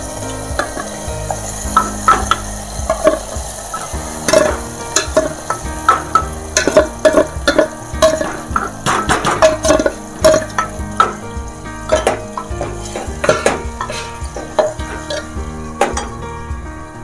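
Onion and tomato gravy frying in a pan for a soybean dish, a steady close sizzle with repeated scraping and stirring clinks of a utensil against the pan throughout.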